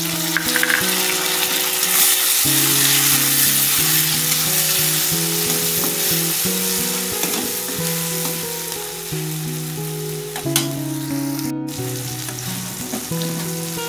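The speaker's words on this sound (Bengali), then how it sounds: "পেঁয়াজগুলো লাল লাল করে ভাজা হয়ে গেছে" Onions frying in a pan, browned for a Bengali chicken kasha, give a steady close broadband sizzle with occasional stirring scrapes, no voices over it, while a low tonal music bed shifts underneath.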